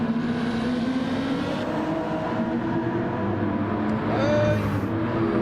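Race cars including a BMW braking and overtaking at Interlagos, heard as a steady loud engine drone with gear-shifting tones and a rising whine near the end, under commentary.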